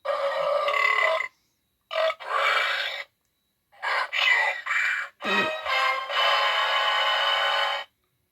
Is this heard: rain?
no